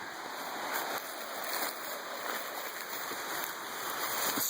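Steady rushing of a stream near a waterfall, a continuous broad hiss of flowing water that stays fairly even throughout, with faint high electronic tones running underneath.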